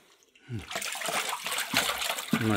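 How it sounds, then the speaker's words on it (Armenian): Sewage water splashes and trickles in the basement of a 1957 residential building in Yerevan, a close, irregular watery wash with brief voices cutting in over it. "Սող ջուր է։"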